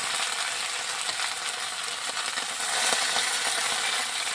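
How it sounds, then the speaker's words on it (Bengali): Taro stems frying in a pan with salt and turmeric sizzle steadily at a moderate level, with faint scraping stir clicks here and there and no talking. "সুন্দর করে ডাঁটাটাকে ভেজে নেব।"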